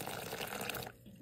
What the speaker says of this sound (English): I'm putting hot water in it.